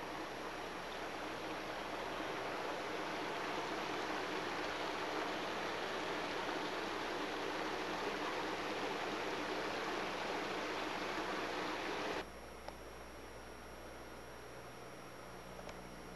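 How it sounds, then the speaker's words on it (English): Loud, steady rush of a stream falling from the Weeping Wall, close and continuous, then abruptly quieter near the end as the water noise drops away. "And on the other side, you got water coming down."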